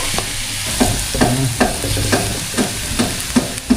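Tilapia sizzles loudly in a pan of sautéed aromatics, with a steady frying hiss and regular spoon-like stirring scrapes every half second or so.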